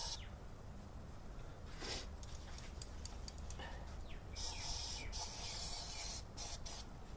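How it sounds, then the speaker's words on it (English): A can of heavy-duty grease spray used on a car engine hisses in several short, weakening bursts, close by, with small rubbing and handling noises between sprays. "very good heavy duty greaser spray here has been getting weaker"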